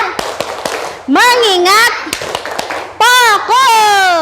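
A group of children doing the tepuk fokus clap routine in a classroom, several sharp rhythmic clap bursts between loud chanted children's voices.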